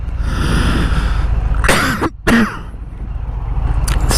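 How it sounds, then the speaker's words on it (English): A single harsh cough bursts out close by inside a motorcycle helmet, followed by a brief rasp of throat clearing, over a steady low rumble of background noise. "Sorry for the coughing."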